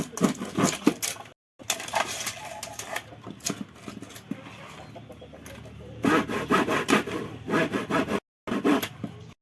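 A hand saw cuts boards for a rabbit nesting box in bursts of rapid rasping strokes, close and loud, broken by short pauses and quieter handling between cuts.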